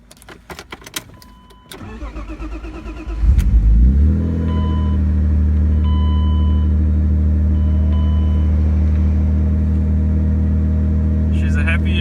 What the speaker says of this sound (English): she's a happy engine